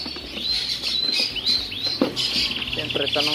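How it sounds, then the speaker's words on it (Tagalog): Inside a bird shop, a pigeon and other caged birds give repeated chirps and tweets near the microphone, with short calls overlapping and a brief rustle partway through. "Ayun na yung kalapati natin."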